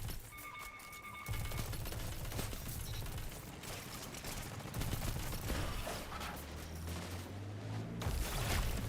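Rapid automatic turret fire in the video game Destiny 2, a sustained fusillade of quick shots at moderate distance with mechanical rumble underneath.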